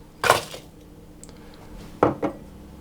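Sugar and then butter land in a mixing bowl with two separate soft knocks and scrapes of utensil against the bowl, close and otherwise quiet.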